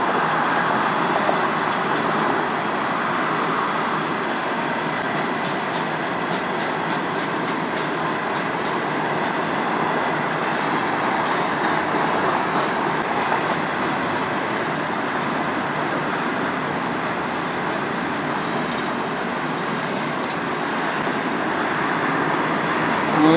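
A freight train of potash cars rolls steadily past near a rail overpass on the Strathroy Subdivision, with continuous loud wheel rumble and faint clickety-clack lasting throughout, with no speech.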